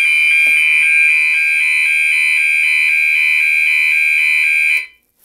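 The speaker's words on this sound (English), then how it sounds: "all walk test does is it does the same thing as this panel where it will just set the alarms off for 5 seconds." Notifier AFP-200 fire alarm panel's notification appliances sounding during a walk test: a loud, steady electronic alarm tone held continuously for about five seconds, then cutting off abruptly, with no talk.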